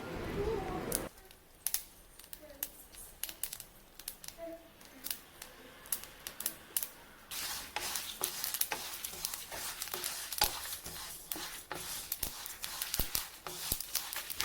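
Sesame seeds dry-roast in a pan for sesame powder, giving faint sparse ticks and pops that grow into a denser scattered crackle, close and quiet, with no talk.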